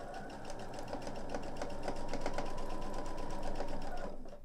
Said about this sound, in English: what I'm going to do is I'm just going to start sewing